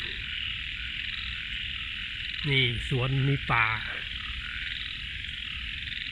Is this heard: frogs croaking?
yes